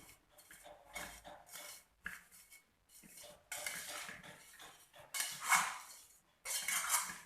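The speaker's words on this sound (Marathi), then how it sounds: "1 वाटीभर मीठ टाकून या फोडी पूर्ण मिक्स करून घ्या" Lime pieces being mixed with salt for pickle in a metal bowl, a run of close, irregular scraping and clinking bursts of spoon against vessel with brief pauses between strokes.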